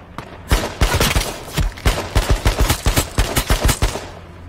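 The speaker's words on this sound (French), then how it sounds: "qui me tire dessus?" Rapid bursts of automatic gunfire in the battle royale game H1Z1, loud and close, firing in quick uneven volleys for several seconds with no talking.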